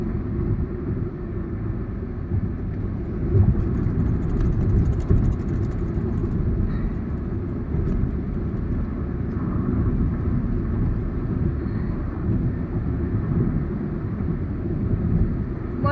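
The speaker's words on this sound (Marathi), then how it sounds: "बघा भन्नाट गाडी चालली आहे" A car's engine and tire rumble on a road near a petrol pump, a steady, loud drone that holds for the whole stretch without fading.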